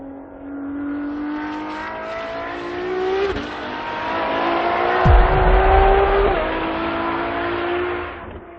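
A Ferrari sports car engine revs up through rising tones, with a sharp gear shift midway and a strong deep burst, staying loud and close throughout.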